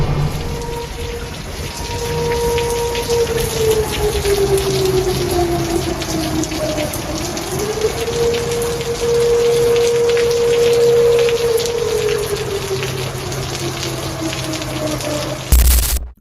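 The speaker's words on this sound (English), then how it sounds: "Turns out this is just a thunderstorm and lightning struck a pole, causing a fire." Heavy thunderstorm rain pours in a dense, continuous hiss, while a distant wavering siren rises and falls underneath, ending in a sudden loud burst.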